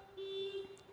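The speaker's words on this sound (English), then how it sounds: "We'll work through the car alarm." A car alarm sounds nearby during a public talk on earthquakes: a steady, held electronic tone that runs almost continuously across the brief moment, fairly loud and alone.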